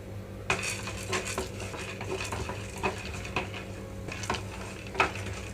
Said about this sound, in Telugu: పచ్చిశనగపప్పు, అలాగే ధనియాలు, మెంతులు, జీలకర్ర మొత్తం కూడా ఇందులో వేసి దోరగా వేయించుకుంటున్నాను